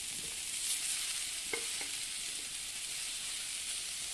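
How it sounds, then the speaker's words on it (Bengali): Cut cucumber stir-fried in a pan with ginger and garlic stems gives a steady, loud sizzle and hiss throughout, with a few faint scraping stirs on top and no talking. "আদা রসুন ডাটাগুলো দিয়ে একটু নাড়াচাড়া করে নিয়েছি এবার দিয়ে দেবো কেটে রাখা শশা"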